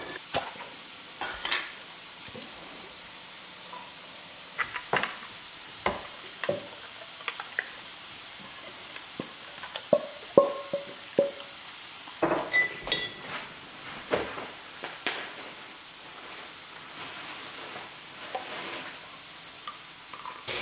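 Sausage sizzles softly in a pan as a utensil stirs and scrapes, with occasional clinks and knocks at an irregular pace.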